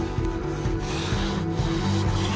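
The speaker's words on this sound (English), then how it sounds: "Before we paint the boards, we have to sand off all the little pieces" Wooden boards are sanded by hand outdoors, a close, continuous raspy rubbing with quick repeated strokes and no talking.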